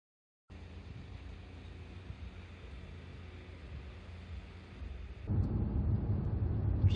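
Inside a 2005 Jaguar XJ8 3.5 Sport Premium cruising at about 45 mph, a steady low road and engine rumble fills the cabin, swelling noticeably louder and deeper toward the end.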